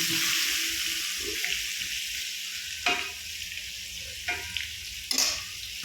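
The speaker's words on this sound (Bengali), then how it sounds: "দেখুন আলুটা লাল লাল করে ভাজা হয়ে গেছে" Turmeric-dusted potatoes fry in hot oil in a kadai with a continuous close sizzle, broken by a few sharp clinks and scrapes of stirring.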